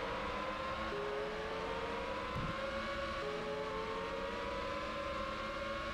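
A Ferrari Formula One car in the PS1 game Formula One 2000 drones at a high, steady pitch that gradually climbs, a continuous engine whine with no talking.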